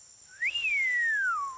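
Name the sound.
cartoon character whistling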